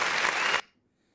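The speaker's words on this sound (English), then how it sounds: "I'm gonna put an applause track going on" A canned applause track plays as a sound effect, a burst of crowd clapping that runs steadily for about half a second and then cuts off abruptly into silence.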